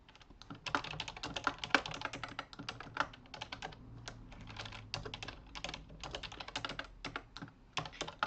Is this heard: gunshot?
no